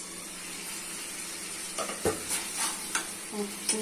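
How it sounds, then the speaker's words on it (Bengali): Vegetables and potatoes stir-fry in a pan with a steady hiss of sizzling, followed by several short scraping and clinking stirs near the end, close up and without talk. "কষে কষে রান্না করে নিতে হবে"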